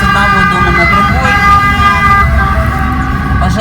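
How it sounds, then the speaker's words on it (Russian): A fire engine siren wails on a street in Rome, loud and close, with its steady tones over the rumble of road traffic. "пожарные машины поехали."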